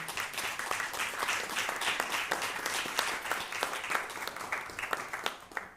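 Applause for students at a school board meeting, many hands clapping in a sustained, moderately quiet burst with sharp individual claps audible through the wash.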